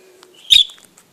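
A pet budgie gives a single short, sharp chirp outdoors, fairly close and clear against quiet surroundings.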